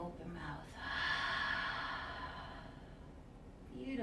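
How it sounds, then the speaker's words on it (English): A long, audible open-mouth exhale during a yoga breathing exercise, a breathy whoosh lasting a couple of seconds, quiet and close, followed by a softer breath. "Ujjayi, inhale. Exhale, open mouth."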